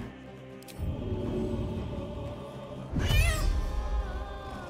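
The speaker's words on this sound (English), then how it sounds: "I'm gonna meow again." A cat meows in Baldur's Gate 3, with a clear rising and falling call near the middle standing out over a steady bed of game music and ambience.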